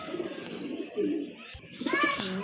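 Domestic pigeons coo in soft, low repeated phrases, close by, with a fuller rising call near the end over faint background noise.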